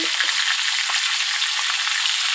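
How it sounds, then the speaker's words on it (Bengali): Large tilapia fish fry in hot oil in a home kitchen, a steady, bright sizzle with faint crackles, continuous and close, with no talking. "চলো মাছটা ভেজে নিই"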